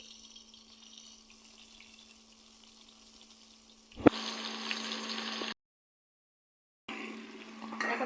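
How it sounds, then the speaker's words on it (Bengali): Prawns frying lightly in oil in a pan for a Bengali malai curry, a steady close hiss and sizzle starting after a sharp clatter, briefly cutting out before resuming, with no talking. "হালকা করে ভেজে নেব"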